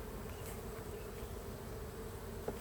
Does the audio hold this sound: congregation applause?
no